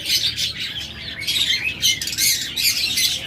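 Pet lovebirds and budgerigars squawking and chirping at a bird market, a close cluster of shrill overlapping calls in repeated bursts, no talking.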